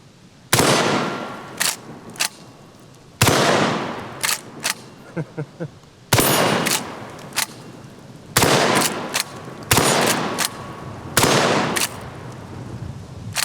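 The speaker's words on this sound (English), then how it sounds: "We've got it fully loaded. Let's take our first shots." Lever-action 12 gauge shotgun fired repeatedly outdoors, with five loud, booming shots spaced a few seconds apart, each followed by quick metallic clacks of the lever cycling.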